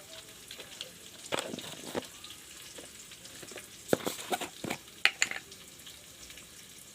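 Potatoes frying in a pan, a soft low sizzle running steadily underneath with a few sharper stirring clatters and pops standing out.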